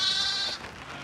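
A sheep bleats once, a close, wavering high cry lasting about half a second during rain on a hillside farm near Mount Sinjar, Iraq, followed by soft steady background patter.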